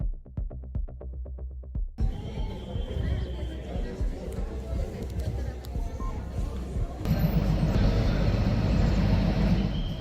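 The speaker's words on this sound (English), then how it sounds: "Shimla toy train." The Kalka-Shimla toy train in India runs along its mountain line, built in 1903, with a steady rumble of wheels and carriages that grows louder near the end, under a voice-over.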